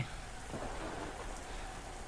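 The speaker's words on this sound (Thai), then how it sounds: "ฝนตกหนักมากเลยครับ" Heavy rain in the zombie survival video game Into The Dead 2, a steady dense hiss of downpour filling the background, faint and continuous with no speech.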